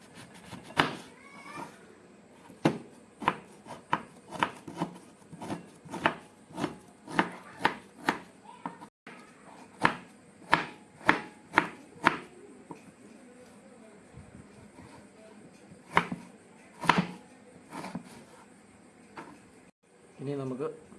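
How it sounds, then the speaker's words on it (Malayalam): A knife chops peeled fruit for a fruit salad on a board in a quick run of sharp close taps, then pauses and resumes in sparser strokes, with faint talk in the background. "ഇനി ഇത് ചെറുതായിട്ട് നമുക്ക് കട്ട് ചെയ്തെടുക്കാം."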